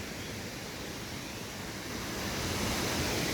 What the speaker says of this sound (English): next to the beautiful sound of a waterfall. It's not a waterfall, it's a really gammy looking weir